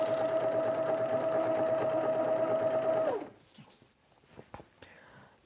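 A sewing machine stitches a 5/8 inch seam on a kitchen curtain with a steady, loud motor hum for about three seconds, then stops, leaving light handling noises of fabric.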